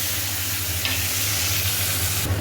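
Sliced onion drops into hot oil already seasoned with cardamom, cinnamon and bay leaf, sending up a loud, steady sizzle that holds throughout, with a brief burst of sharper spitting near the end.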